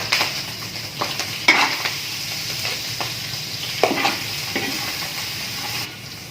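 Garlic sizzles in a hot pan for Bicol Express style ginataang sitaw, a steady close frying hiss broken by a few sharp stirring scrapes and clinks.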